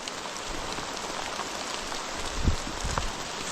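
Soft, steady rain falls on a surface outdoors at a chili pepper planting site, a faint continuous patter with a few louder drops near the end.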